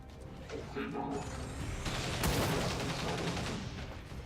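Rapid chained gunfire bursts from an XCOM 2 tactical battle, with clattering mechanical impacts and crashes swelling mid-clip over a busy game soundtrack.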